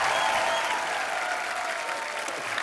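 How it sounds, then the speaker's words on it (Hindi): A studio audience at a live comedy talk show breaks into loud, dense applause that continues steadily throughout, mixed with faint crowd noise. "आप सबकी जोरदार तालियों के बीच"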